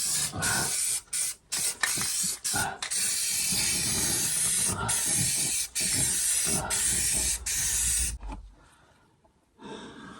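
Spray paint hisses steadily from a can onto a C-10 Turbo 350 transmission part in short, close bursts with brief pauses, then cuts off near the end.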